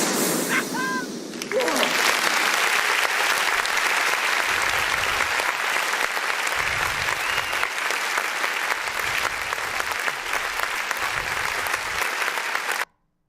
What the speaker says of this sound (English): They just want to keep clapping.